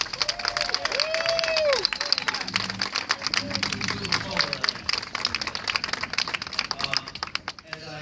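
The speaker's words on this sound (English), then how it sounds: "With a warm welcome of applause, please welcome our mayor, Mayor James Kimkitty." Steady clapping from a crowd welcoming the mayor fills the room at a spring cleanup event in Philadelphia, with voices and cheering mixed in underneath, continuing at a fairly even level throughout.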